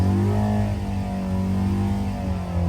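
A Hillman Imp 1200 racing engine runs on a dyno, a steady, loud, close mechanical drone with strong low harmonics, held high throughout without pause.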